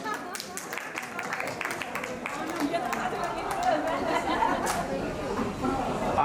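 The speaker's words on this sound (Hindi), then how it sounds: "एक बार तालियां।" Audience clapping at an indoor gathering, a steady patter of many hands that swells slightly toward the end, mixed with background chatter and voices.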